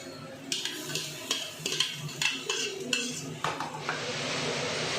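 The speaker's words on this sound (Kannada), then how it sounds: "ಈಗ ನಾವು ಸೊಪ್ಪು ಮತ್ತು ಕಾಳು ಬೇಯಿಸಿದ್ದೀನಲ್ಲ ಅದು ಸೇರಿಸ್ತಾ ಇದ್ದೀನಿ" A utensil scrapes and clinks against a pan as cooked greens and sprouted legumes are stirred into fried onions, with repeated sharp scraping strokes over a steady background sizzle that swells toward the end.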